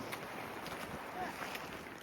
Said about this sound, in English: Hopefully you can hear me because it's so windy